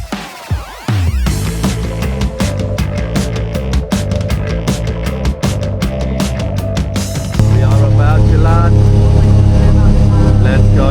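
A small plane begins its takeoff on a very short runway on the flight to Everest. Its engines run loud and steady, rising to a stronger, sustained roar near the end, with voices over the noise early on.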